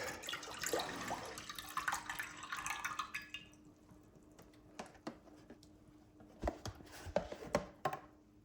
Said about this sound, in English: Now let me add chicken stock.